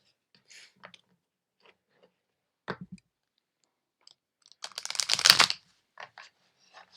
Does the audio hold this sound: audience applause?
no